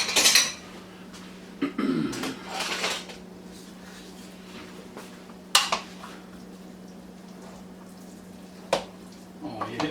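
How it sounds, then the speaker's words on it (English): Baked ziti is scooped and served with a spoon, giving a few sharp scrapes and clinks of metal against a dish amid quiet gaps and a steady low hum. "Get all that goodness in a bigger spoon."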